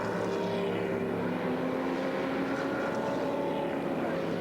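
Race cars on a warm-up lap at the Montreal circuit during the 1998 Motorola Cup make a steady, continuous engine roar, blended and somewhat distant, with no distinct single pass.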